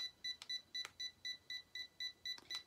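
A Chi Spin & Curl hair tool beeps during a reset: a quiet, rapid run of regular electronic beeps with a few clicks mixed in.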